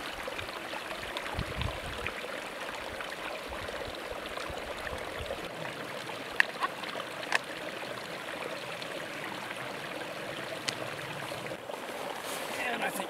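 A mountain creek flows steadily beside a high trail, giving a soft, continuous watery rush at low level with a few small splashes and clicks, heard alone with no voices.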